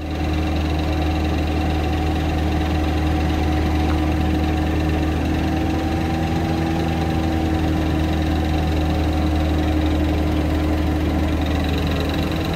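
BMW M3 Competition running with a worn rear wheel bearing gives a continuous, loud mechanical hum and drone with a steady vibrating tone, unchanging throughout with no talking.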